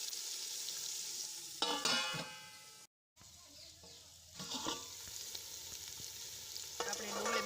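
Chopped onions and tomatoes fry in a pan for a Gujarati recipe, a steady crackling sizzle with clinks of stirring, briefly cut out before picking up again loudly.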